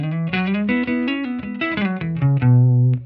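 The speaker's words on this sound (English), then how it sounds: "here is the sound of my raw Telecaster with none of the effects on" A clean Telecaster electric guitar on the neck pickup, with no effects, plays a short melodic phrase of single notes, bright and clear with no distortion, ending on a sustained low note.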